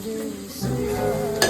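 Curry leaves hit hot oil in a pan while making dal khichdi, a close sizzle that swells partway through and ends with a brief scrape or clink of a utensil.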